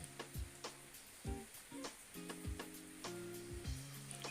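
Mustard seeds, fenugreek, two dried red chillies and curry leaves fry in a tablespoon of coconut oil, a steady close sizzle broken by sharp popping crackles of spluttering seeds and the occasional scrape of a spoon.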